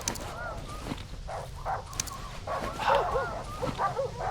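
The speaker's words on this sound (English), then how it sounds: "Can I please pet that dog?" A dog in the horror game Darkwood barks, yips and whimpers in short repeated bursts, moderately close, over low background game ambience.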